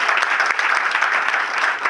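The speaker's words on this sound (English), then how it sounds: "Let's give Robinson Lean a big round of applause." Brief, lively applause from an audience at a recognition event, dense clapping that stays steady and fairly close throughout.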